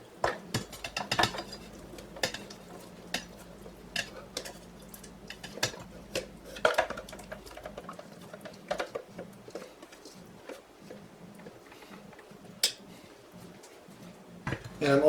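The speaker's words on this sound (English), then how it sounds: "I'm just going to add them all to the blender like this" Whole tomatoes drop and knock into a blender jar for homemade hot sauce, making a scattered series of close, hard clunks and clatters over a quiet room.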